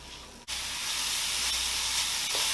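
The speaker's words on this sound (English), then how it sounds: "You just want to cook this on a medium heat for a bit and let everything saute and soften up" Vegetables for a vegetarian pasta saute over medium heat in a pan, giving a steady, close hiss and sizzle that drops briefly for a moment, then resumes.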